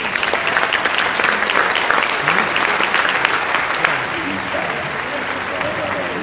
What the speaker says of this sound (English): Please give them a big, big round of applause.